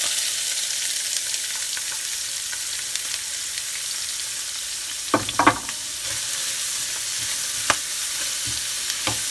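Onions fry in hot oil with a steady, even sizzle that holds throughout, broken by a few sharp clinks and scrapes of a utensil against the pan.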